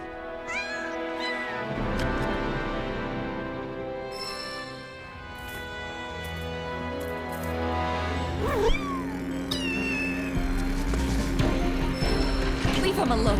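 Fluffy the cat meows while eating cat food in the video game Final Fantasy VII Rebirth, short mews rising over a steady bed of game music and ambience, with a voice speaking at times.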